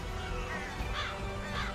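Gull-like calls, added as a sound effect on a stream, repeat a few times over a steady background bed.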